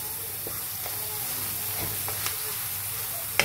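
Food sizzling steadily in a pan on a home stove as it is stirred, a constant close hiss with a few soft utensil clicks and one sharper tap at the end.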